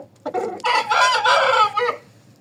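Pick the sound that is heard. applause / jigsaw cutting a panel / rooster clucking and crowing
rooster clucking and crowing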